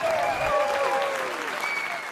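Applause from a crowd fills the space throughout, a dense continuous clapping that holds steady and then eases off slightly toward the end.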